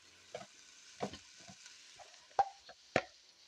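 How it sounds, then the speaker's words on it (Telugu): Chopped onions fry in a pan with a little chili powder added while cooking fish biryani, with a faint sizzle under several short stirring scrapes and a couple of sharper clicks of the spoon against the pan. "మనకు ఉల్లిపాయ ముక్కలు అయితే వేగిపోయాయి ఫ్రెండ్స్ ఇప్పుడు దీనిలో కొద్దిగా కారం వేసుకున్నాం"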